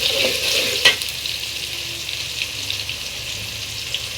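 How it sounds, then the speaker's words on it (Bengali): Onion fries in hot oil as ginger and garlic go in for a beef khichuri, a steady close sizzle with a sharp hiss burst and occasional stirring scrapes. "এখন আমি দিয়ে দিচ্ছি আদা রসুন।"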